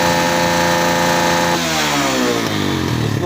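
A tuned 2022 Suzuki GS 150 motorcycle engine runs loud and close, its note roughening and shifting midway as it misfires, with no talking.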